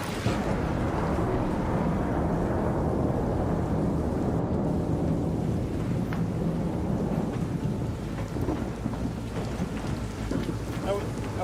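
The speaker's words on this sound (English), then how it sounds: "watching the lightning strike at him" Lightning strikes in a video game and is followed by long, rolling thunder with a rain-like hiss. The roar is loud and sustained, fading slightly toward the end.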